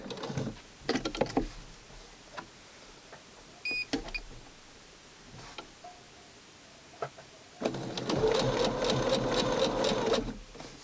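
A sewing machine closes a seam on small doll clothes, with a few scattered clicks and short bursts of handling before a steady, close, rapid stitching run of about three seconds near the end.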